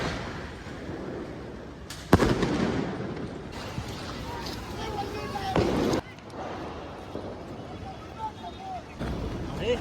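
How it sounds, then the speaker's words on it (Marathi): Diwali firecrackers burst in the open at Shivaji Park after rain, several loud broadband blasts spaced a few seconds apart over steady wind rumble and crowd noise. "हे फटाक आहे"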